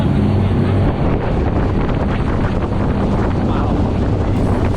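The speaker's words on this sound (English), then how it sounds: "The storm has hit us." Heavy storm wind buffets the microphone on a sailing boat off a tropical island, a loud continuous roaring rumble with water noise underneath and faint voices in the background.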